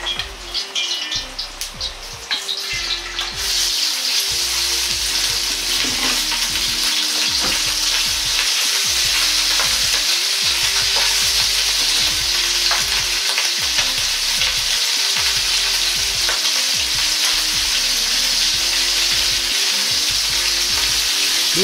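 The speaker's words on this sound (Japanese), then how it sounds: "鍋に大さじ1の油を入れ、" Bacon sizzles loudly in a tablespoon of oil in a pot, a dense, continuous crackling hiss with steady spitting that holds throughout, close up, after a short quieter start.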